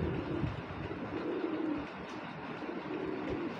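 A pigeon being handled coos in low, throaty, repeated rolling calls at close range, faint over a constant background rumble, with no one speaking.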